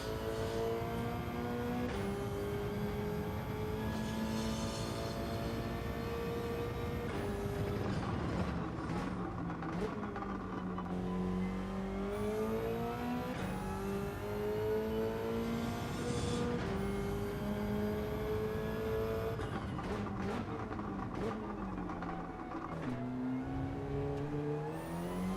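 Race car engine in Gran Turismo 7 revving hard under heavy throttle, loud and continuous, with pitch climbing and dropping through repeated gear shifts and a brief lift off the throttle.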